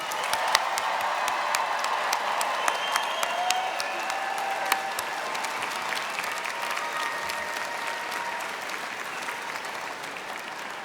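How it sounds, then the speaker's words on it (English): A large audience applauds the graduating class of 2026 at a Drexel University College of Arts and Sciences commencement ceremony, with sustained dense clapping and a few sharper individual claps throughout, heard from within the hall. "let's have one more round of applause for all of our graduates"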